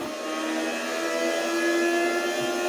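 A race car engine in the Gran Turismo Sport video game drones at a sustained high pitch and slowly climbs as it accelerates, loud and continuous with no talk.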